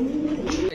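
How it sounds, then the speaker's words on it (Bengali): A Morasel fancy pigeon gives a single short, close, resonant coo that holds steady before cutting off abruptly. "এটা ভাই মোরাসেল কবুতর ভাই, মোরাসেল।"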